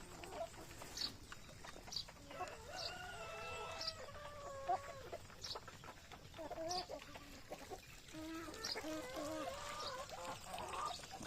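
Free-range chickens cluck and squawk repeatedly around a rooster in a rural yard, with overlapping calls near and farther off at a fairly faint level.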